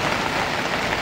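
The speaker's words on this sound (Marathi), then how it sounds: "तेवढा पाऊस होतोय।" Heavy rain falls hard and steadily on surfaces nearby, a dense, continuous hiss of close drops with no other sounds.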